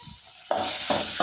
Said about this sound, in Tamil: 1/4 வெங்காயம், பெரிய வெங்காயமாக இருந்தால் 1/4 வெங்காயம், சின்ன வெங்காயமாக இருந்தால் ஒரு 5 வெங்காயம் போட்டு